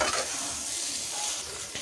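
Cabbage and egg fry with coriander leaves being stirred in a hot pan, with scraping stirs over a constant close sizzle and no speech.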